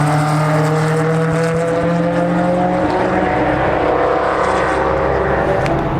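A Lotus on a race track, its engine note loud and continuous with falling harmonic tones as it passes nearby, then a broad steady roar of track noise.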